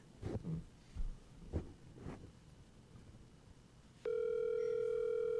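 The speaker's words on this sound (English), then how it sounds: "There we go. It's ringing." A few soft knocks and rustles, then a steady electronic telephone tone starts and holds, fairly loud and close.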